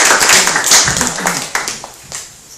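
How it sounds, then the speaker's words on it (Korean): Audience clapping to welcome a social worker at a Korean human-library talk event, a near burst of hand claps that swells early and then thins and fades out over a couple of seconds. "여러분께서 간절하게 열람 신청을 요청한 조영근 복지사님을 힘찬 박수로 환영해 주세요"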